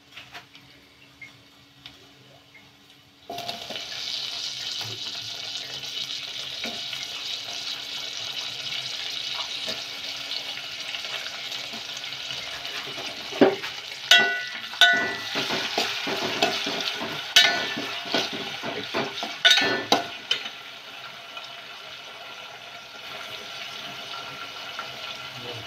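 Chopped tomato frying in hot oil in a home kitchen pan, a steady sizzle joined later by scraping stirs and clinks of a spoon against the pan, close and fairly loud, with no voices.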